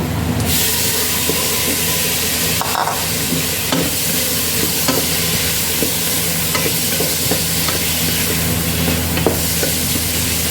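Tomato goes into a hot pot of Saudi kabsa with meat, and a continuous loud sizzle and frying hiss follows, with scattered clinks and stirring scrapes throughout.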